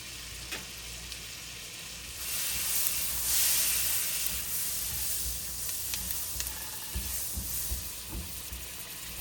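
Whole cumin seeds hit a piece of melted butter in a hot wok. A soft hiss swells into a steady, close sizzle that holds for several seconds with small crackles.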